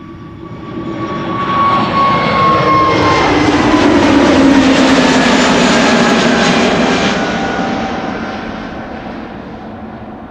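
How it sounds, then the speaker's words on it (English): An ITA Airways A320 bound for Milan takes off at Schiphol Airport, its engine roar swelling from a distance to a loud, broad rumble before slowly fading again, with no talk over it. "ITA just took off from center, should become visible pretty soon."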